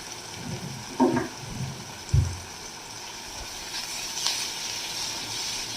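Food fries and is stirred in a pan with black pepper and Kashmiri chili powder, a low steady sizzle broken by two sharp knocks of a spoon against the pan.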